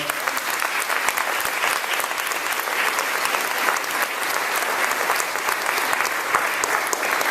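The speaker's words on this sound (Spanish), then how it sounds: "Un fuerte aplauso al Señor." A church congregation gives loud, sustained applause to the Lord during a Spanish-language service, a thick continuous wash of clapping that holds steady throughout with no voices breaking through.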